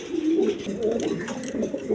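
Large pigeons kept in pairs coo in soft, repeated throaty calls, close by, while someone talks over them.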